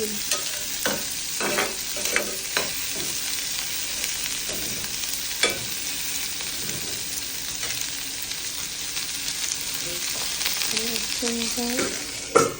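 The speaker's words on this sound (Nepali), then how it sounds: "अब प्याजलाई पनि मजाले रातो हुनेसम्म भुट्ने, यसलाई उल्टाइ गरेर मजाले भुट्ने" Onions fry in a hot pan until reddish, with a steady sizzle broken by repeated scraping strokes of a spoon turning them over, close and clear with no talking.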